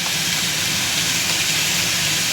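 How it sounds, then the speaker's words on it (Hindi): Boiled guar beans go into a pan of frying tomato masala, which gives off a loud, steady sizzle and hiss that runs unbroken from start to finish with no speech. "अब ये जो हमने बॉईल करके रखी हुई है ग्वार फली वो इसमें डाल देंगे।"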